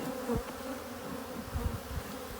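Honey bees buzz steadily in an open hive that is nearly full of honey, a close, continuous drone with a couple of brief louder swells.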